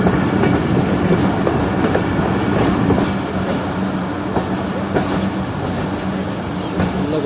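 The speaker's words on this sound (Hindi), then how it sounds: "तो ट्रेन अप्रोच कर रही है हिरुप रेलवे स्टेशन पर।" A Pakistan Railways train, the Jaffer Express, rolls toward Hirup railway station with a steady close rumble of railcar wheels and faint clickety-clack on the track, loud and continuous, easing slightly after a few seconds, with no talking.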